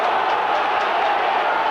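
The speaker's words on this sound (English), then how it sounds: "The crowd really trying to get behind Wigan now." Crowd noise from a 1997 World Club Championship rugby league match between Wigan and Brisbane, a steady broad roar of spectators cheering throughout with no pauses.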